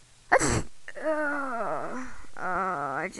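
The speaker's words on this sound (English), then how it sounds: "I just sneezed all over the lenses." A sharp, short sneeze from a Webkinz virtual pet in the game, followed by two long wavering, moaning whimpers.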